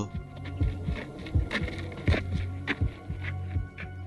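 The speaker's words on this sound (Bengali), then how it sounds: "হাঁটার শব্দ," Footsteps from the Voyager Golden Record's sounds of Earth, heard as a steady series of soft, evenly spaced thuds that fall about every half second, close and muffled over a low hum, with no voices.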